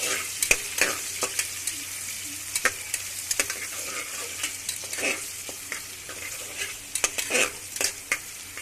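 Biryani frying in a pan as it is stirred, with a steady sizzle and repeated sharp scraping clicks of the spoon against the metal, close and fairly loud with no talking.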